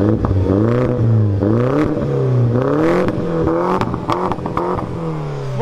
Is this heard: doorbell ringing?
no